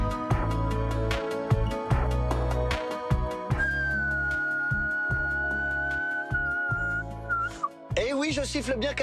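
A person whistling in imitation of a nightingale over loud rhythmic music, a long steady high note followed by quick warbling trills near the end.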